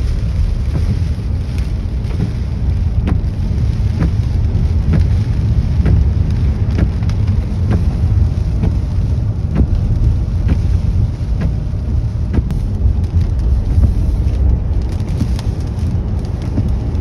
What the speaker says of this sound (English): Just a little rain right now.